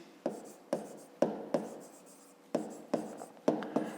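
A pen writes on paper in a quiet room, close scratchy strokes coming in short bursts with brief pauses between them and no talking.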